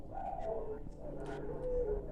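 A puter pelung dove gives soft, low cooing in a short phrase, faint and fairly close, over a quiet murmuring background.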